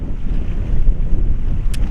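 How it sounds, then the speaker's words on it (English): Strong wind in Moab roars steadily across the microphone in a low, constant rumble, with no talking. "Now Mother Nature isn't playing nice. It is very windy."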